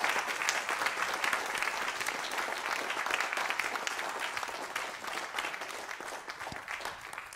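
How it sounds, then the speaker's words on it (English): An audience at a lecture on the Israel lobby gives the speaker a steady round of applause, a continuous, even wash of many hands clapping that fills the whole stretch with no pause. "Let's give him a big round of applause."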